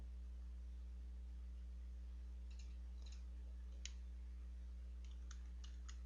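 A computer mouse clicks in small, quick bursts while drawing in CATIA V5, soft and close over a steady electrical hum, with no talking.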